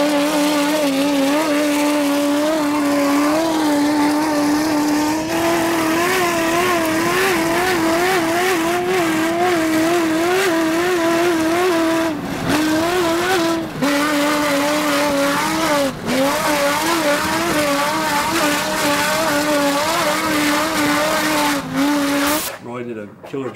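A heavily modified Toyota Tundra truck with its engine droning and revving hard as it drives, steady and loud throughout, with tire squeal and voices talking over it.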